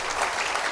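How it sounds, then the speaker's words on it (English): Audience applause at a prostate cancer patients and caregivers conference, a brief dense wash of clapping at steady loudness with no voices. "give him a round of applause"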